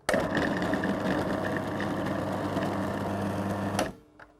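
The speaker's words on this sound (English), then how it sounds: "I'm just going to pop that lid on and I'm going to pulse it until I get a very fine crumb mixture" Food processor whirring through a short crust pastry mix of flour and butter, a loud steady motor buzz for about four seconds before cutting off abruptly, followed by a faint clunk.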